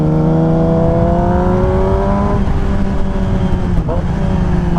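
A 2007 Yamaha YZF R6 motorcycle's exhaust rises through the revs with a smooth climbing whine on a twisting mountain road, then drops and blips as the rider downshifts, loud and close.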